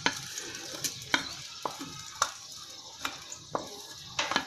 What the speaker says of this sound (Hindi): अब ये मैं छोटी सी एक प्याज चॉप कर वो मैं डाल रही हूँ इसमें